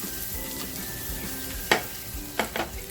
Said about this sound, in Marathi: ही लसूण टाकते बघा खमंग फोडणी बसणार आहे